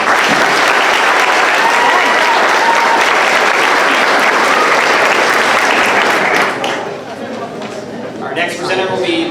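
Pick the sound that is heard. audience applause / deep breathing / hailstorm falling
audience applause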